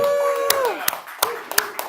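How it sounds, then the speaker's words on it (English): Scattered hand claps from a comedy showcase audience, a few sharp separate claps popping over a sustained tone and background voices. "Give them a big round of applause."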